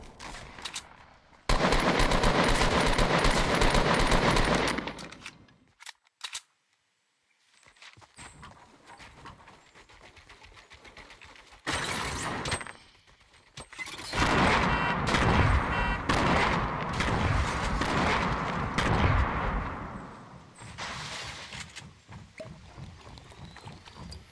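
Gunfire in the video game Fortnite: several loud bursts of rapid shots and single cracks, split by quieter stretches of game ambience and movement, with no speech.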